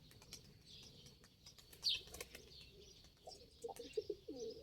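Faint pigeon coos and soft wing flutters come from a distance in a quiet outdoor setting with a few hundred birds, with scattered chirps.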